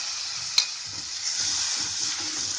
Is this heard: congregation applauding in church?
no